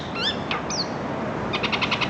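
Wild birds squabbling, giving a few sharp rising chirps and squawks early on, then a quick run of rhythmic clicking calls toward the end, all over steady outdoor background noise.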